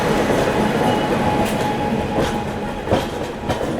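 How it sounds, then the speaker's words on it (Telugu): A train hauled by a WAP-7 electric locomotive rolls into Visakhapatnam station, its steady heavy rumble continuous and close, with sharp wheel clicks and clanks over the rail joints and no voices. "మన వైజాగ్లోకి ఇంకో ట్రైన్ ఎంట్రీ ఇస్తుంది విత్ VAP 7 రాయపురం"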